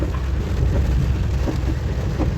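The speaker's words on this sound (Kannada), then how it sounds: "ಎಷ್ಟು ಮಳೆ ಬರ್ತಾ ಇದೆ" Steady rain patters with a low rumbling undertone, continuous and fairly loud over a short stretch.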